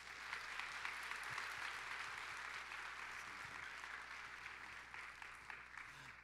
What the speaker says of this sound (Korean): 우리 담임 목사님 나오실 때 사랑의 마음을 담아서 큰 박수로 모시도록 하겠습니다